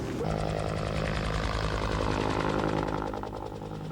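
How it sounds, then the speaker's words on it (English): A helicopter flies over the flooded Red River in Manitoba, its engine droning steadily with a fast, even rotor pulse, fairly loud and close throughout. "The sound of helicopter blades cutting through the air has become a familiar sound for Manitoba residents along the overflowing banks of the Red River."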